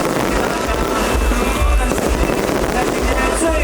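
A large aerial fireworks show at the Dajia Jenn Lann Temple concert, with a dense, continuous crackle and thudding bursts echoing around a crowded outdoor venue, loud throughout.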